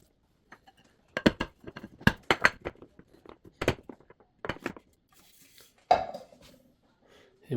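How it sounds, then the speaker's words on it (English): A spatula runs around the edge of a baked carrot tres leches cake in its pan, making a series of separate scraping knocks and clinks at close range over about seven seconds, with quiet gaps between them. "we're just going to get a spatula and go all around to see if we can get this out of our pan"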